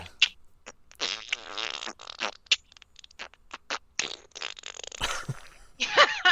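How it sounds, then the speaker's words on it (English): Comedic fart sound effects in a rapid string of short bursts, mostly wet and raspy with varied lengths and pitches, loud and close, broken by brief gaps and ending in a longer squeal-like blast. "gonna open on fart sounds"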